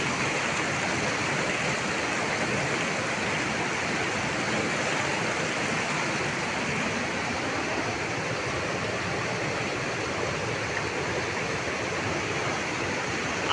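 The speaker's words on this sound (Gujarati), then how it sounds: "ખળખળ વહેતું પાણી છે આ" A mountain stream flowing beside a trekking trail in Uttarkashi, in the Himalayas: a constant, full rushing of water that stays even and close throughout, with no talk over it.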